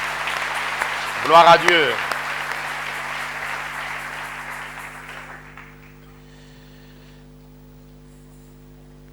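A church congregation applauds together, steady clapping that fades out after about five seconds, with a voice speaking briefly over it near the start.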